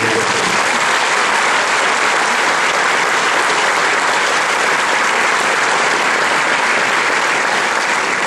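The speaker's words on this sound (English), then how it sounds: "please give them a round of applause for their work" A large crowd at a military graduation ceremony for new soldiers breaks into sustained, loud, dense applause, an unbroken roar of clapping with no speech.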